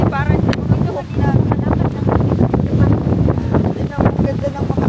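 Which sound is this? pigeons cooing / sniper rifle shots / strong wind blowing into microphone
strong wind blowing into microphone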